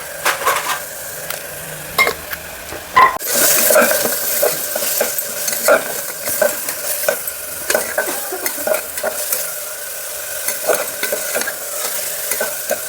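Mutton keema fries loudly in a pan as salt and turmeric are stirred in, with a steady sizzle and repeated close scraping and clinking of a spoon against the pan, rhythmic and busy throughout.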